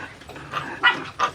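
A dog on a small piggery farm gives a few short, close barks and yips with brief pauses between them, and no one is talking.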